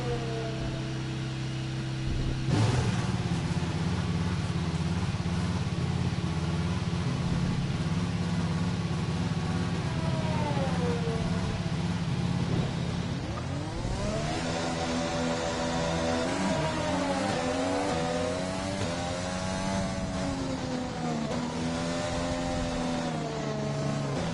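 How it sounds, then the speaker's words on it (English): Formula 1 race car engine in the F1 2020 video game, Chinese Grand Prix, a loud steady drone that jumps up when fired and then sweeps through rising and falling revs as the car pulls away. "Engine fired."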